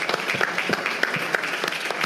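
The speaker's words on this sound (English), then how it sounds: "A big applause for Mr. Tsomokos" An audience at the Delphi Economic Forum applauds, a continuous patter of clapping with a few sharper individual claps standing out, moderately loud and without speech.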